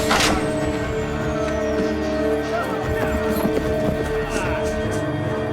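Horse hooves clip-clop through a scene of the Firefly TV series, a steady patter buried in a dense, tonal soundtrack with no clear break.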